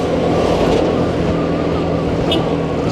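A scooter rides through traffic in Bali, its small engine droning steadily and up close with a constant broadband road rush and wind noise, and no talking.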